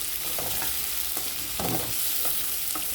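Tomatoes sauté in a pan for an aubergine sauce, giving a steady close sizzle with a few soft stirring scrapes over the three seconds and no talking.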